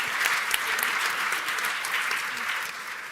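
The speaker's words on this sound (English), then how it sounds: "Let's give our film team a big round of applause." An audience at a women's health panel applauds a film team, dense steady clapping from many hands that tapers slightly at the end.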